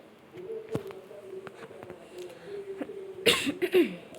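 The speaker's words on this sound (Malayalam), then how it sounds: "എനിക്ക് നല്ല ചുമയാണ്" A single sharp cough breaks out near the end after a quiet stretch of faint clicks and a low hum.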